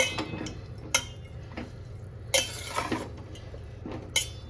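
A spoon stirs dry coconut into wheat lapshi porridge in a pan, making a few sharp metallic clinks and scrapes over a steady low hum, with no talking.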